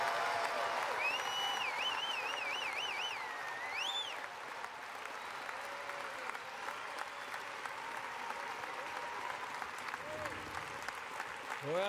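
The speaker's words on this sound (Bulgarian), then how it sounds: "Ръкопляскайте силно на Господа." A church congregation claps loudly and continuously for about twelve seconds, with crowd noise and sung or shouted voices mixed in over the applause.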